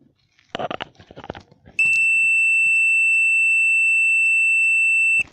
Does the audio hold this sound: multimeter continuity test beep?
yes